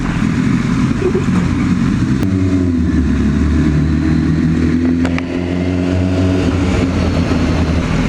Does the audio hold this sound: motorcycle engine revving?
yes